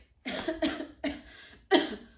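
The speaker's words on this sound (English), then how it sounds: "Started coughing in the middle of the monologue" Four harsh, explosive coughs in quick succession, close and fairly loud, with short pauses between the bursts.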